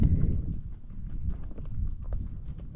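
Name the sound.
horses walking, hooves clip-clopping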